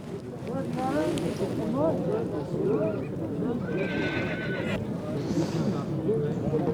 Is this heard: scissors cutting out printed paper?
no